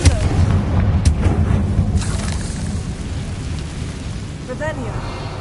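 A Confringo fire spell blasts in the Hogwarts Legacy video game, a loud, dense burst of rumbling, crackling fire and impact noise that fills the whole clip and slowly eases off toward the end.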